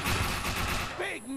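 Rapid bursts of enemy gunfire from a firefight in the video game Defiance, loud and continuous over the first second before giving way to a tonal electronic sweep, with a voice speaking over it.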